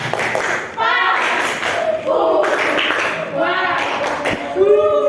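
A group of schoolchildren in a classroom performs the tepuk Papua clapping chant, voices singing together over rhythmic hand claps, close and lively.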